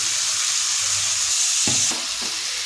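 Eggplant sizzles and fries in a pan for a Bengali fish curry with potatoes, a steady hiss with a couple of brief stirring scrapes near the end.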